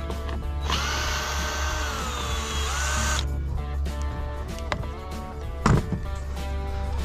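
A screw being unscrewed from a garden rake with a power driver: a steady whirring drill tone for a few seconds, then mechanical clicks and a sharp knock, close and fairly loud.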